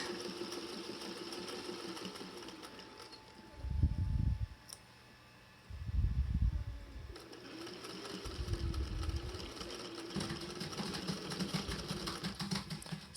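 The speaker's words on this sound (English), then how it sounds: "we're staying 1/8 of an inch away from the edge of the bias tape and just continuing to stitch that in place" A sewing machine stitches bias tape onto a DIY medical face mask, its motor whirring in three separate loud bursts with quieter pauses and a steady low hum between runs.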